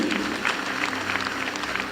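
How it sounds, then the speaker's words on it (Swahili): A church congregation claps for its youth, giving warm, continuous applause from a crowd with steady overlapping claps and no breaks. "wazazi pigieni watoto wetu makofi mazuri"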